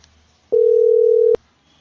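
A steady telephone dial tone sounds alone for just under a second while a call is being placed, starting and stopping abruptly against a quiet background.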